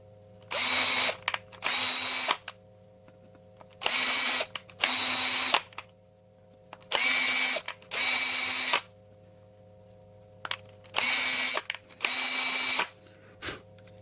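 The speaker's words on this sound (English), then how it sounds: "Clean off any excess plastic from your drill holes, okay? And then tap them." Power drill whirring in short bursts as it taps pre-drilled holes in a plastic game controller shell, about nine close, loud pulses in pairs with brief quiet gaps over a low hum.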